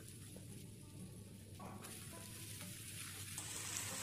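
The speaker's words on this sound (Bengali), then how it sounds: "কড়াইয়ের মধ্যে দিলাম সর্ষের তেল। এরপর আমি ফোড়নের জন্য দিলাম দুটো শুকনো লঙ্কা।" Cut potatoes frying in mustard oil in a wok with dried red chillies hiss and sizzle quietly, with a few clinks and stirring scrapes, close and steady.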